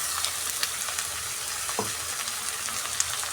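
Spices and coconut masala frying in a pan give off a steady, fairly quiet sizzle, with a few light taps and crackles scattered through it.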